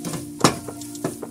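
Samosa filling is stirred in a pan, a spoon scraping and clinking against the metal in a few distinct strokes over a soft steady sizzle, close and fairly loud.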